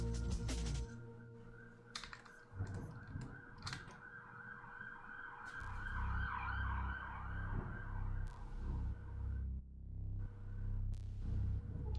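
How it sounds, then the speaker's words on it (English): Emergency vehicle sirens wail outside, a wavering tone under steady background noise and occasional clicks that resemble keyboard typing indoors. "What's happening over the sirens?"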